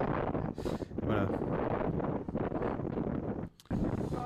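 Strong gusts buffet the microphone at a remote Antarctic weather station, a loud continuous roar of wind with brief dips, while a person speaks through it.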